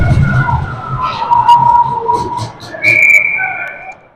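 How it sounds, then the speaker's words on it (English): A referee's whistle blows at a youth under-13 elite ice hockey game, a long shrill blast followed by a second sharp blast, set against rink crowd noise and an echoing arena. "And we have a whistle."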